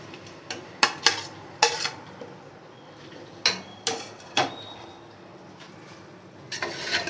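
A utensil scrapes and taps against a cooking pot while crushed fried onions are stirred into beef korma, giving irregular sharp clinks and scrapes spaced over several seconds, close and alone without talk.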